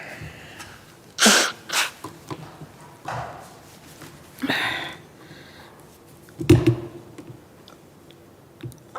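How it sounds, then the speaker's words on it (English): A sharp, explosive sneeze bursts out near the start during a council committee meeting, followed by a few quieter sniffs and breaths and another burst later on. "my nose does feel that it wants to sneeze"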